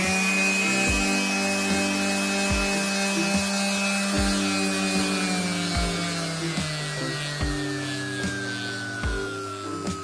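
A DEKO DKG400-125 random orbital sander runs steadily for the whole stretch, a loud continuous electric whine and hum with slowly drifting pitch and faint regular ticks, with no talking.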